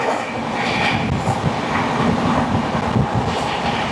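The Poorva Express rumbles steadily out of Bardhaman Junction, wheels clattering in a loud continuous roll with wind buffeting the microphone, heard from on board and without voices.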